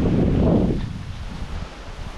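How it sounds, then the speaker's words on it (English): Wind gusts outdoors on a hunting trail on Florida public land, a rough rushing blast against the microphone that fades within a second to a low rumble. "Looks like the wind is picking up again."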